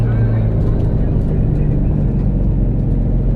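Nissan S13 engine droning loud and close at high revs, its note stuttering and breaking up as it nears the rev limiter.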